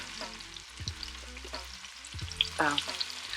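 Onions sizzle steadily in a pan as a utensil stirs them, giving a few soft scrapes and knocks over a constant close frying hiss.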